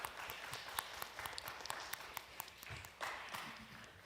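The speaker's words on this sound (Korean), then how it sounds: "저희 장서영 자매님, 진아원 자매님, 강민지 자매님 일어서시면 저희가 박수로 환영해 드릴게요." Applause and scattered clapping from a church young adults' Friday worship congregation welcoming three newcomers, a steady patter of hands that swells briefly near the end.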